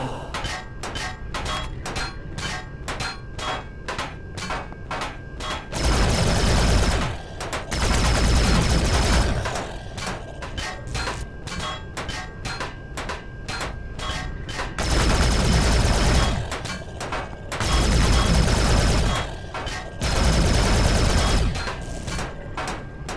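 A large turret in the video game Empyrion fires loud, rapid, evenly spaced shots, broken up by several longer roaring blasts that recur throughout.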